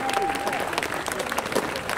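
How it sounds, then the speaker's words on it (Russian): Audience applause at a live concert in Samara, a brief, fairly thin burst of clapping from a modest crowd, steady and close. "Мы так с вами аплодируем, как будто нас тут совсем мало."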